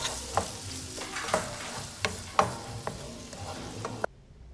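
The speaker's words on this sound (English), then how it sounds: "we're gonna go ahead and add the diced tomatoes. And this we're going to saute it until it releases its juices" Diced tomatoes sautéing in a pan for shrimp empanada filling: a steady sizzle broken by irregular scrapes and clacks of stirring, close and moderately loud, ending abruptly into near silence.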